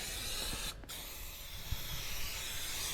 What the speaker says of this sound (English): spray some Pam into the chute.